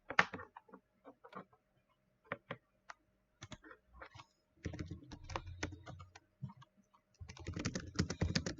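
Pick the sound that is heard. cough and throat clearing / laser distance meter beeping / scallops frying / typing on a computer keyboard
typing on a computer keyboard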